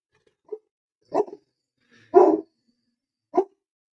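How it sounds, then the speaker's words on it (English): A puppy gives four short, sharp barks spaced about a second apart, close and clear against near silence. "I know that the pup's going to keep barking here for a minute."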